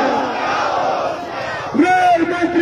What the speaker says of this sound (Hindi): इतनी भीड़ है दोस्तों